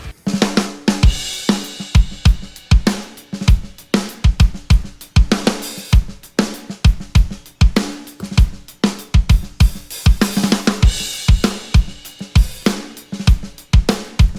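A sampled snare drum plays a steady groove of sharp hits with a roomy, reverberant tail, loud and alone with no voices.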